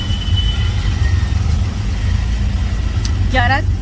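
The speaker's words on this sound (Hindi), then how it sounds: "मतलब इतने ट्रैफिक में, इतना ट्रैफिक है बाप रे बाप" Low engine rumble of idling cars in heavy city road traffic, a steady near drone with a faint horn-like tone near the end.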